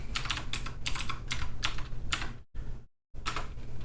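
Rapid keystrokes on a computer keyboard entering a password into a terminal, close and clear, in quick bursts with a brief pause near the end before the clicking resumes; no voices.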